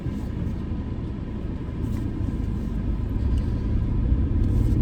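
A car engine idles low and steady as the vehicle reverses out of a driveway on a hot day, with the air conditioning running high, a continuous near rumble that swells slightly toward the end.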